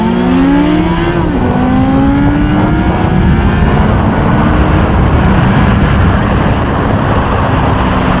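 Suzuki GSXF 600 motorcycle on a test ride, engine loud and close with rising and falling revs over continuous road and wind rush, no talk.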